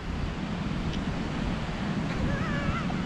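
Continuous rushing surf on a Baltic Sea beach at Hel, Poland, a broad steady wash of waves mixed with wind buffeting the microphone and no clear voices.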